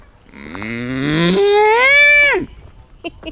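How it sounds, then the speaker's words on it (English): A cow gives one long, loud moo near a forest, its pitch rising then dropping abruptly before a couple of faint short sounds follow; a voice is briefly heard. "Where is the moo cows?"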